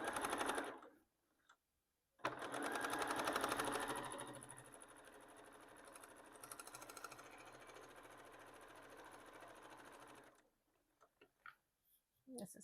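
Sewing machine stitching fabric for a pencil case, a fast, even mechanical rattle running steadily for about eight seconds after a short start, then stopping into a few faint clicks.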